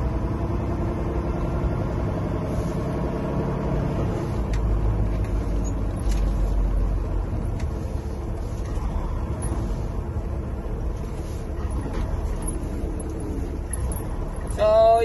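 A Volvo semi truck idles in freezing cold weather to warm up, its low steady engine rumble running throughout with faint clicks and a brief louder swell near the end.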